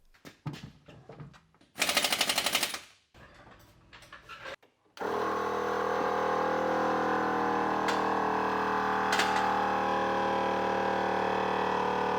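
A DIY onboard air compressor on a Land Rover Discovery runs as a loud, steady mechanical drone, with short bursts of clatter and an intense hiss just before it settles in.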